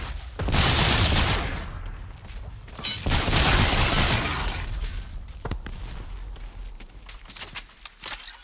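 Heavy gunfire from an aerial gun run in the Call of Duty Infinite Warfare campaign, two long loud roaring bursts of rapid shots, then scattered fainter cracks and debris as it tails off.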